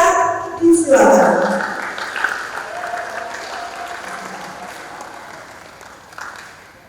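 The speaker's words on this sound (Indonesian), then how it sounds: "Kepada beliau kita sambut dengan tepuk tangan" Audience applause greets the second speaker at an Indonesian talk on wise social media use, a broad burst of clapping swelling near the start then slowly fading over several seconds beneath a voice.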